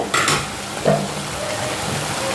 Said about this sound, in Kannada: ಈಗ ಹೀಗೆ ಒಳ್ಳೆ ಮಿಕ್ಸ್ ಮಾಡಿಕೊಳ್ಳಿ